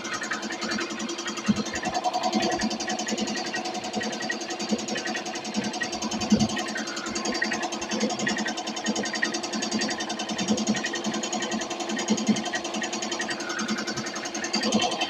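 Tajima Sai 8-needle embroidery machine stitching a blanket at 650 stitches per minute, a steady close mechanical whir with a fast repetitive needle clatter running unbroken throughout.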